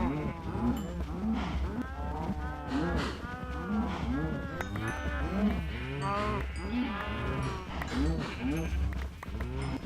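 A crowd of overcrowded cows in the video game Minecraft, mooing over and over in a dense, overlapping chorus of low, drawn-out calls with steady background noise.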